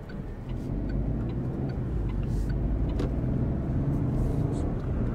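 A 2025 Opel Frontera subcompact SUV on the road, its steady low cabin rumble of engine and tyre noise running continuously throughout, with faint light ticks over the top.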